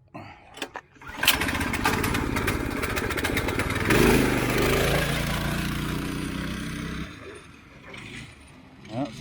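A go kart small engine is throttled up after a swap, with an irregular putter at first and then a loud, steady near mechanical roar that runs for several seconds before dropping off. People talk briefly at the start and the end.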